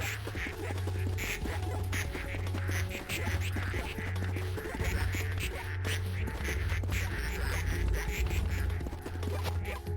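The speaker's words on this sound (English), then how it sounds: "There's so many ducks out here." Dense, continuous chorus of many ducks quacking in the Project P.I.T.T. video game, loud and busy throughout, with repeated low pulsing game sounds running underneath.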